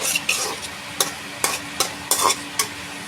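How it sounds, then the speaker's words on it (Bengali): Vegetables with tomatoes, beans, potato and cauliflower stir-fried in a pan with ginger paste, coriander and turmeric, making a low sizzle broken by about eight regular scraping strokes of a spatula against the pan. "সবজিটা ভালোভাবে কষিয়ে নিছি"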